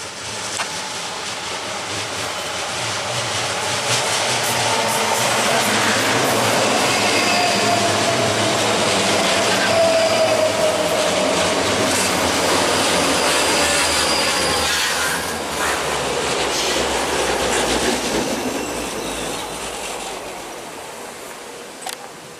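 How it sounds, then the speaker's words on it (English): A class 334 electric multiple unit on the Helensburgh to Edinburgh line passes at Craigendoran, a long loud rushing roll of wheels and air that swells and fades over about twenty seconds with faint wheel squeal. "Here comes the class 334 again, going from Helensburgh to Edinburgh."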